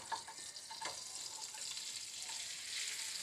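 Ground dates cook in butter in a pan with a steady, close sizzle, broken by a few soft stirring scrapes and no talking.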